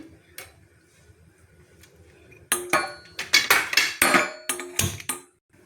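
A metal kadai is set down on a stove beside another pan while cooking a stuffed brinjal fry, giving a run of sharp, close metallic clanks and knocks after a quiet start.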